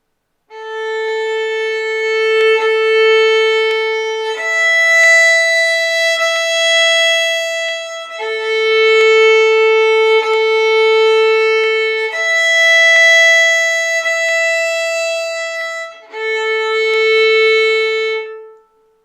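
Slow violin notes of the Twinkle theme drawn with long, sustained bow strokes, four or five held tones in a row, clear and close with no talking.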